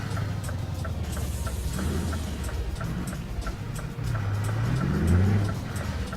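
A Scania truck rolls along in Euro Truck Simulator 2, its engine droning low and steady, then climbing in pitch as it accelerates near the end, with faint ticking on top and no voices.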